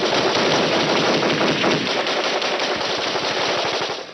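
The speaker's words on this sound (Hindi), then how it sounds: "आतंकवादी क्लेस्निकोव मशीन गन से उनकी तरफ ताबड़तोड़ फायरिंग ओपन कर देते हैं" Sustained, loud automatic fire from a Kalashnikov machine gun, a dense rapid rattle of shots continuing without a break for several seconds, easing slightly at the end.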